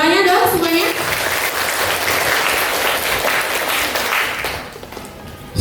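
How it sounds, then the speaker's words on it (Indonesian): An audience at a school event welcoming an official applauds, a loud dense wash of clapping that holds steady for several seconds before tapering off near the end, with a voice audible at the start. "Tepuk tangannya dong semuanya."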